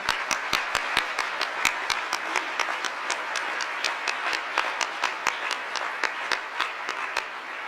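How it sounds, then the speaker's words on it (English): An audience at a Department of Justice event applauds Mr. Roman, a moderately quiet, even round of clapping with distinct individual claps ringing out in a steady rhythm. "Please, another round of applause for Mr. Roman and his courage"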